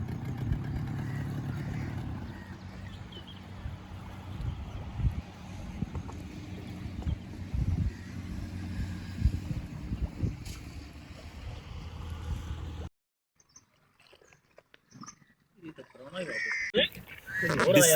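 A motor boat engine runs steadily on a river near Mirpur for about thirteen seconds with a low drone and water and wind noise, then cuts out briefly before noise returns.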